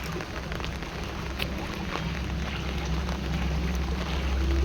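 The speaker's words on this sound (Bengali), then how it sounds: "ডিভান্সেল জল ঢুকেছে, কি বৃষ্টি!" Heavy monsoon rain pours down steadily as water floods into the house, a dense continuous hiss of drops drumming on surfaces, with no voices, swelling slightly louder toward the end.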